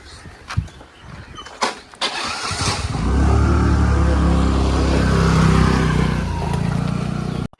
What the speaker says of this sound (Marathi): चला गाडी फक्त पुढे घेतो